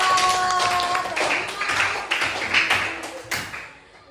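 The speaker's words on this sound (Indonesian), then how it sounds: "tepuk tangan untuk Anaya." Children in a school religious-education classroom clap for a classmate, a short burst of dense, close claps at fairly steady loudness that thins out and stops near the end, with faint voices mixed in.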